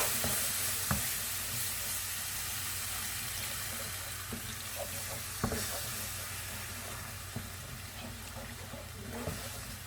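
Broth poured slowly into a chicken blanquette sauce in a pan, a steady soft sizzle with liquid swirling and occasional spoon clicks against the pan, close and continuous with no talking.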